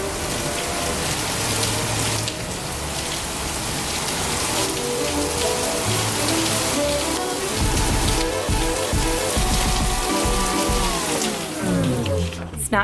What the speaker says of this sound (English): it's a pouring day, which is my favorite kind